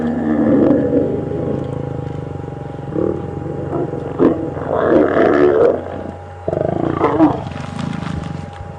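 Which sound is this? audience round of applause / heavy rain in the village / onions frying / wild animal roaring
wild animal roaring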